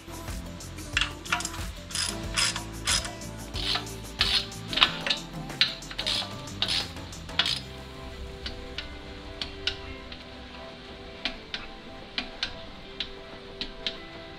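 A ratchet clicks in quick bursts while tightening the oil pan bolts of a 1999 MK4 Volkswagen Golf to torque, close and fairly quiet, the rapid ticking runs growing sparser and lighter toward the end.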